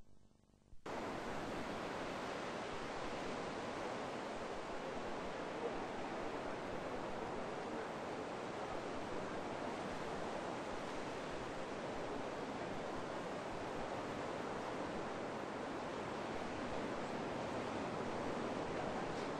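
Surf washing onto Four Mile Beach at Port Douglas, a steady broadband roar of breaking waves that runs unbroken and loud after a brief quieter opening, with no voices.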